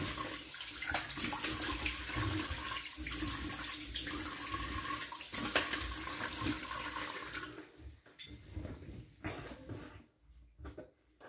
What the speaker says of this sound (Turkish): Yüzümüzü durulayalım tekrar.